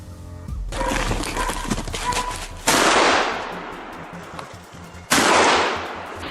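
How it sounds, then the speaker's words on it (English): Loud close gunshots are fired at a wild boar in Texas, two sharp cracks a few seconds apart with ringing decay, after a stretch of rustling noise. "Only after several follow-up shots did the animal finally collapse for good."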